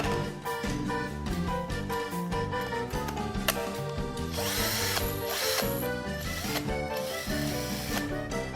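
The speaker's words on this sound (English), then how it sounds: "Finally, I inserted the battery into the drill and ran a quick test." A cordless drill runs on a repaired battery, a steady high motor whine with shifting tonal pitch, close and continuous, without any talking.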